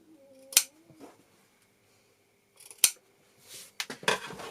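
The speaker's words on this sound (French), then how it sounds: "Celui-ci, je vais couper mes angles," Scissors snip the corners of a fabric face mask in a few sharp, close, isolated cuts separated by quiet pauses, with light handling rustle at the end and no talking.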